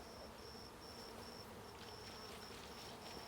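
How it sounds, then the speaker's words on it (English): Honeybees drone around an opened beehive during an inspection, a steady faint buzz with a thin high whine drifting in and out, no voices over it. "Chill out, bees."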